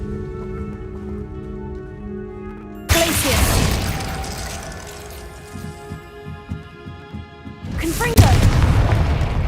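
A Confringo blasting spell in the Hogwarts Legacy video game bursts with a loud boom, followed by crackling, scattering debris, and a second explosive blast near the end, all close and forceful.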